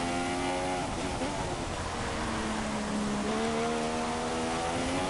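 Race cars in a racing video game on the final lap of the US Grand Prix, engines holding a steady, loud, high-pitched whine that shifts pitch slightly as they run, continuous throughout.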